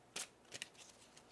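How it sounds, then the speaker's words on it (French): A tarot card drawn from a deck gives a few soft papery swishes and flicks, close and quiet, with no talking. "Je vais sortir une autre carte parce que ça m'intrigue"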